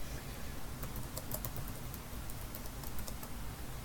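Computer keyboard typing while entering text labels into drawn shapes in a word-processing document, a steady run of light, quick key taps close by with no talking.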